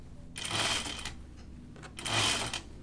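Sewing machine stitching a French seam on a sleeve armhole in two short bursts, a close, fast mechanical whir with a quiet pause between runs.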